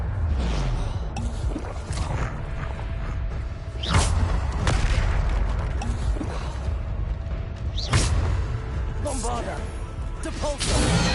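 Depulso force spells cast repeatedly in Hogwarts Legacy combat, each a forceful whoosh ending in a crashing boom, several landing over about ten seconds amid clatter and shouting voices.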